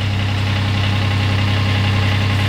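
A sailboat's inboard engine idles with a steady low, even rumble and faint mechanical vibration, close and continuous throughout, with no talking.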